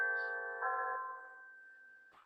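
Chimes ring out with a single clear, sustained strike whose tones sustain and slowly fade over about two seconds, heard alone in a quiet room, with a faint click at the end.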